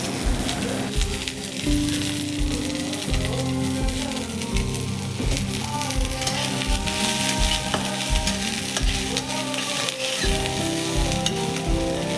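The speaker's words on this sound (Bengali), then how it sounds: "ঢেলে দিয়ে তারপর একটু খুন্তি দিয়ে নাড়াচাড়া শুরু করে দিলাম।" Steady loud sizzling of onions and chilies frying in a pan, with a spatula scraping and stirring in a rhythmic pattern throughout.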